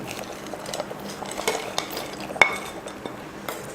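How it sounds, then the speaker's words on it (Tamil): Roasted nuts go into vermicelli payasam cooking in milk while a spoon stirs the pot, giving faint, scattered metallic clinks and soft scraping against a quiet, steady background. "இப்போ இதில் நம்ம வறுத்து வச்ச நட்ஸ் எல்லாம் சேர்த்துடலாம்."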